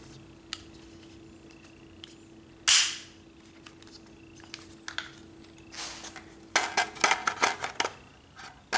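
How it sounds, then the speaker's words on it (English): Sharp metallic clicks and snaps from an AR-15 rifle being reassembled as its pins are pushed back into place, including one loud clack and a cluster of quick clicks near the end, over a quiet background hum. "then you're going to push it forward all the way. Shove the pins back in place."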